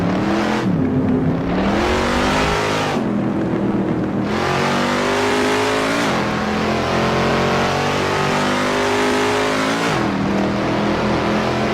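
Racing car engine roaring and revving in bursts, pitch rising and dropping with gear shifts, loud and continuous with no talking.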